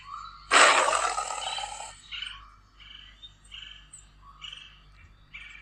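A tiger roars once, loud and close, followed by several wild bird calls and chirps in a jungle setting, with no talk.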